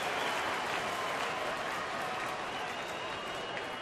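A packed ballpark crowd at a Toronto-at-Detroit baseball game keeps up steady applause and cheering, a broad continuous roar of hands and voices that stays even from start to finish.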